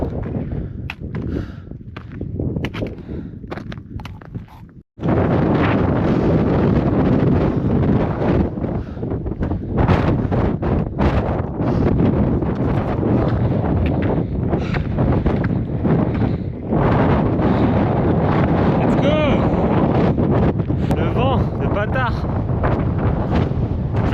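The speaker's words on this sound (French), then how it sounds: "Je prends des rafales." Strong wind gusts batter the microphone on a steep mountain climb up Mont Thabor from Modane in the Alps. A brief quieter start gives way to loud, sustained roaring blasts, with occasional footsteps and breathing.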